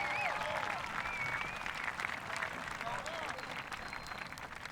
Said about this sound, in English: I would like all the graduates and their family to take a moment to applaud all the teachers, faculty, and staff